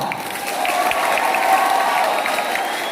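At a family Christmas celebration, an audience gives a moderate round of clapping, the many hands steady and slightly distant, with a faint tonal hum running beneath and scattered voices mixed in.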